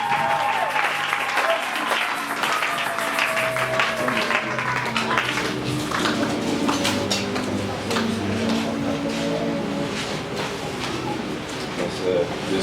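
Church congregation applauding loudly, sustained dense clapping from many hands filling the space, with a voice speaking over it.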